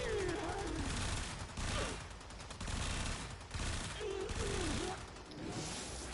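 Rapid gunfire rattles through a Warframe fight, with bursts of shooting at enemies for headshots, dense and loud, broken by short gaps and layered with game effects.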